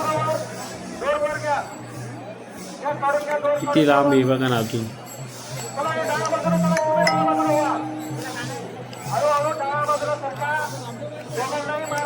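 A dense crowd of pilgrims at the flower-decorated Pandharpur temple, a steady murmur of many voices with occasional clinks, while someone talks close by over it.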